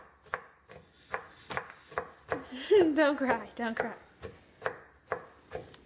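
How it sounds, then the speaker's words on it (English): Knife chopping red onions on a cutting board, steady regular chops with brief talk partway through. "So we're chopping them up."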